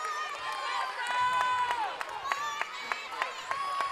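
A volleyball championship crowd at a Coastal Christian home match in Wilmington fills a gym with cheering, clapping and squeaking shoes, while a commentator talks over the noise.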